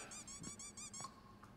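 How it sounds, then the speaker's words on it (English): A small character in the video game Scarlet Hood and the Wicked Wood lets out quick, faint, high squeaks in a rhythmic burst of about five chirps. No one speaks over them. "the squeaking is adorable"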